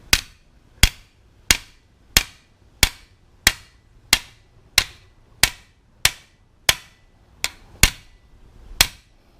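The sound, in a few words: hammering a boat rivet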